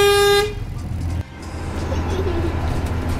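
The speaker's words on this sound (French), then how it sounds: "On va faire péter un gros coup de klaxon pour les remercier" A car horn gives one loud, steady blast at the start and then cuts off, leaving road rumble and faint background noise.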